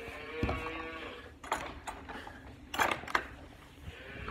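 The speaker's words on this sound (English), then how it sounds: "there's more cows in these pens" Cows in farm pens give a couple of short moos and low calls between quieter pauses, fairly close by, with some faint background clatter.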